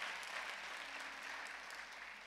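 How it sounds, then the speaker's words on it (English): A church congregation claps in praise at a Baptist service, a steady wash of hands filling the room without a break and no voices rising above it. "Let's give God a hand clap of praise."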